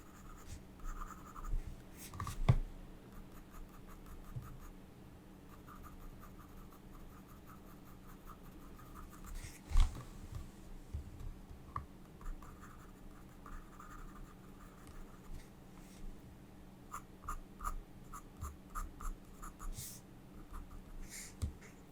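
Pencil sketching in a sketchbook, a lion being drawn with steady soft scratching strokes at close range, punctuated by a couple of louder taps and some faint breathing.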